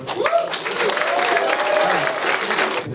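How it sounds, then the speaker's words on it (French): A morning crowd at the Fauntastic 2019 closing ceremony breaks into loud sustained applause, with whoops and cheering voices rising over the clapping. "Vous pouvez vous applaudir."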